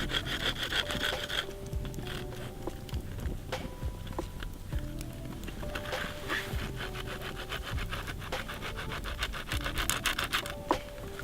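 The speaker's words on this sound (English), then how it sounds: "I'm just sawing it up and making a bunch of dust here." A small saw rasps back and forth through dried bracket fungus to make tinder dust outdoors, giving soft, rhythmic scraping strokes close to the microphone with brief pauses between them.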